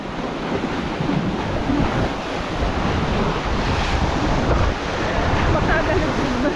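Large ocean waves crashing and rumbling continuously in strong wind, with heavy wind buffeting on the microphone, loud and close throughout.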